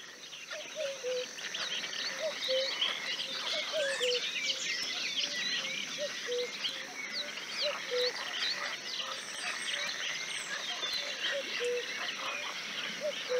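A steady natural soundscape of frogs, cuckoos and other birds, with a dense bed of chirping and trilling and a faint repeated call running through it, continuous and fairly quiet.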